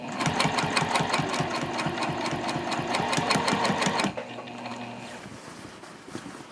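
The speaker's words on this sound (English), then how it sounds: "Now as you're sewing down here, you're going to have to do, some manipulation with the bag." Sewing machine stitching a bag seam on a zip-top tote, running steadily and rapidly for about four seconds, then stopping, leaving quieter low handling sounds.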